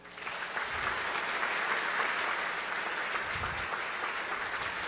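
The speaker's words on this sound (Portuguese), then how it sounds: "eu quero que todos vocês comecem a bater palmas" A live audience claps steadily and loudly at a tech meetup talk, a dense sustained wash of many hands beating together without pause for the full length, with no voices over it.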